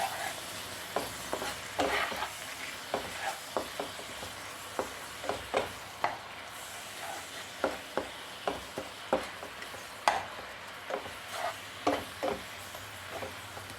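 Grated coconut and jaggery filling for ilayada is stirred in a pan over medium flame, a soft background sizzle with a steady series of scraping, tapping spoon strokes roughly every second, close and without talk.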